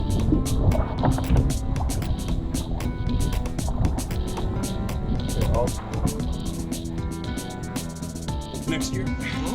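Canoe paddled across Ramsey Lake, with soft water splashes and paddle strokes repeating under a steady wash of noise throughout.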